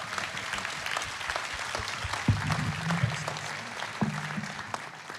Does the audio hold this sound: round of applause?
yes